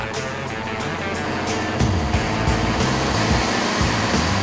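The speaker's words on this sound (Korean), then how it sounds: "일이 끝날 때까지 단 1시간도 꺼지지 않는 엔진의 소음은 엄청나다." A fishing boat's engine, run nonstop at sea at night to power hairtail-fishing lure lights, gives a loud, constant drone with a deep low rumble that fills the whole stretch, steady and unbroken, no voices.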